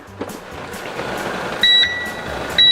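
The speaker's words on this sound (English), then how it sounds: "I just heard the timer go off" A kitchen oven timer in a cooking-show kitchen goes off with two short, loud electronic beeps, separated by about a second, over quiet room ambience.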